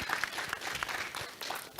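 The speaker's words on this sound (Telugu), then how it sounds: "మీ చప్పట్లకు ఎప్పుడు దాసోహం నేను" An audience applauds with a dense, steady patter of many clapping hands. The clapping is fairly close and carries on without a break for about two seconds.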